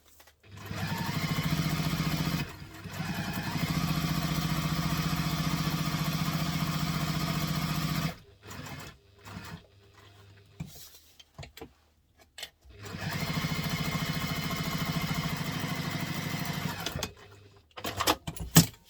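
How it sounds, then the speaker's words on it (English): A sewing machine base-stitching a bowler bag runs in long loud bursts of rapid mechanical whirring, stopping for a few seconds of quiet handling and small clicks between runs. "I'm just going to base stitch it together"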